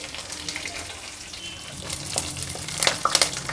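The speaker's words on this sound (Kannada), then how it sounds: "ಉದ್ದಿನಬೇಳೆ ಕಡಲೆಬೇಳೆ ಎರಡು ಮಿಕ್ಸ್ ಮಾಡಿ ಇಟ್ಕೊಂಡಿರೋದು ಸ್ವಲ್ಪ ಹಾಕ್ತೆ ಕರಿಬೇವಿನ ಸೊಪ್ಪು ಒಣಮೆಣಸಿನ್ಕಾಯಿ" Urad dal, chana dal, curry leaves and dry chillies fry in hot oil, giving a soft, continuous sizzle with a few brighter crackles toward the end.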